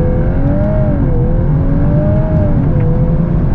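A 2022 Volkswagen Golf R on launch control holds a steady, loud engine drone with a wavering whine at high revs, sustained close by without a clear surge into acceleration.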